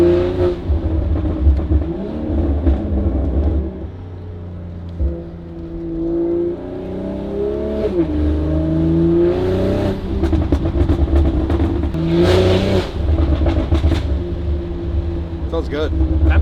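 A BMW B58 engine in a G42 M240i with a Valvetronic Designs exhaust revs repeatedly, its exhaust note rising and falling in loud, close sweeps, while people talk over it.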